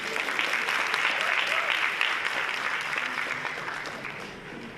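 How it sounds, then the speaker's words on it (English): An audience at a city council meeting in Miami Gardens bursts into dense, sustained clapping that holds steady, then gradually tapers off. "And you can clap for her too."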